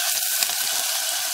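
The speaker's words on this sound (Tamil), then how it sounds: "இப்போ நல்லா வதக்கியாச்சு" Small onions, chilli, curry leaves, drumstick and tomato sauté in hot oil, giving a steady close sizzle and crackle with faint stirring.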